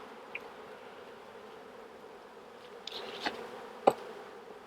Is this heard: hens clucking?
no